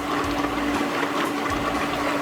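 Air scouring of a water filter, a continuous rushing, bubbling churn of air and water with a steady pump hum, close and unbroken throughout.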